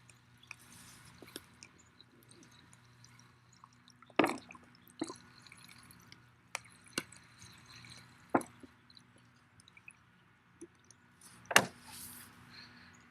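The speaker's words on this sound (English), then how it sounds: "You see how the water is saturating the ground?" Water drips onto saturated ground in sparse, irregular drops, quiet single taps scattered over a hushed background with a few sharper, louder drips.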